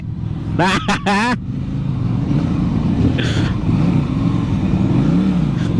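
A WMOTO Morbius 250 cruiser motorcycle engine runs smoothly at a steady low idle rumble, close by, while voices talk over it for most of the stretch.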